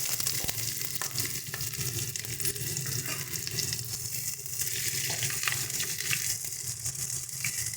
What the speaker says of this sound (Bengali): চলো দিয়ে দিচ্ছি গোটা মশলাগুলো যেগুলো দেখিয়েছিলাম তোমাদেরকে। দিয়ে দিচ্ছি পেঁয়াজ কুচি